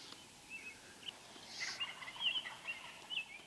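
Several wild turkeys gobbling before sunrise, their calls distant and faint, with repeated overlapping gobbles from more than one bird across the stretch in a quiet early-morning setting.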